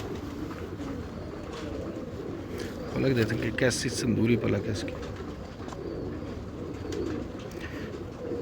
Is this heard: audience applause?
no